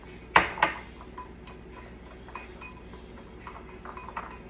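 A utensil clinks twice sharply against a bowl while dry rub ingredients for pork tenderloin are mixed, followed by softer scraping and light tapping, close and fairly quiet.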